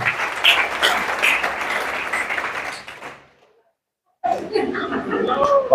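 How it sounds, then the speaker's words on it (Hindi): An audience at a Hindi motivational meeting claps for about three seconds, dense and steady before fading out. After a short silence the clapping picks up again, sometimes with voices in the crowd. "जिन्हें मिली वही ताली बजाना"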